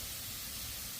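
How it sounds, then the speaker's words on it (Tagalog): A garden hose sprays a fine water mist over flower plants, giving a steady, soft hiss of even spray throughout the short moment, with no talk. "Yung spray na parang lang oh."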